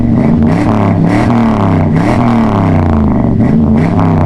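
A 1996 Chevrolet Impala SS with a floor shifter accelerates hard, its V8 roaring loud and close from inside the car as revs climb and fall across several surges.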